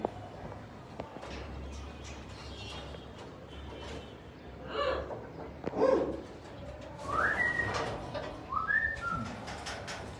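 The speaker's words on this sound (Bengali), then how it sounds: "অসম্ভব সুন্দর একটা পাখি" Soft bird calls and a few short whistled notes come and go faintly over a low, steady background hum.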